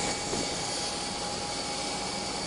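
Gold Coast airport ambience carries a steady, distant roar of aircraft engines under a constant hiss.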